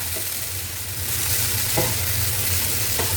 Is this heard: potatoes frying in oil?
yes